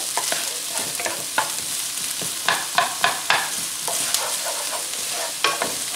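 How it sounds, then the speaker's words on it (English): A spoon stirs chopped jalapeno into heated oil for a chicken and potato curry, giving a steady sizzling hiss broken by irregular scraping clicks and taps against the pan, close and moderately loud, with no talking. "this is a jalapeno chopped, put that in, and we're going to stir this into heated oil"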